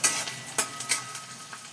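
Chopped onion frying in a pan gives a crisp, close sizzle. It is broken by several sharp scraping and stirring clicks from a spoon, and no one speaks.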